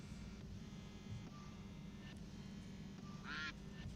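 A short duck-quack sound effect plays once near the end, faint and brief over a steady background hum.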